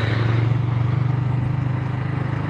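A vehicle engine idles steadily up close with a fast, even clicking pulse coming from the clutch area, loud and continuous with no talking.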